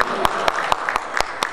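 A crowd at an album launch event claps in a quick, regular rhythm, with evenly spaced sharp claps over a low murmur.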